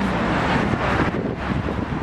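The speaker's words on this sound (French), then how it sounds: "il y a du vent" Gusty wind blowing steadily outdoors on a cold day in central London near Big Ben, a continuous loud rush with faint street traffic underneath and no talking.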